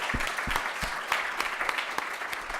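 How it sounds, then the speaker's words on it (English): An audience applauds mentors and sponsors at the Caltech Space Challenge 2019 final presentation, a steady, moderately faint patter of clapping hands with a few sharper individual claps, no voices over it. "I think we should give all of those a round of applause."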